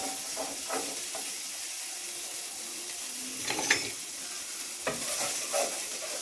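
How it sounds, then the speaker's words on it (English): Diced onion sizzles loudly in a lamb roast pan, a continuous frying hiss broken by a few stirring clicks and scrapes. "Next, we're going to add some diced onion."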